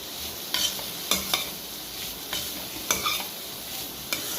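Beetroot frying in a pan with garlic and curry leaves, stirred with a spoon: soft steady sizzle broken by a series of sharp scraping and tapping strokes at an irregular pace.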